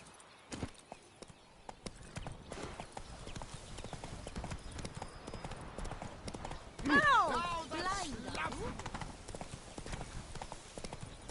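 Hooves clip-clop steadily from Geralt's horse Roach trotting in The Witcher 3, a continuous rhythmic beat running throughout under game music and a brief whinny-like swell near the middle.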